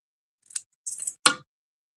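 Scissors cut cardstock paper in half, giving a few brief crisp snips and rustles, close and quiet, separated by short pauses.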